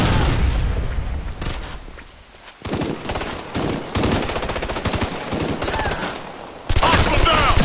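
Combat in Ghost Recon Future Soldier: sustained automatic gunfire crackles loud and near in rapid bursts, with heavier booming blasts such as a frag grenade explosion breaking through, including a strong one near the end.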